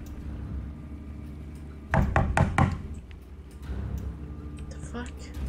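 Door knocking in the horror video game Under: a burst of about four quick, loud knocks midway through, over a steady low game drone with some faint talk nearby.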